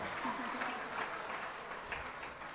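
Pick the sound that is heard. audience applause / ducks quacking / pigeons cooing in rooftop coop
audience applause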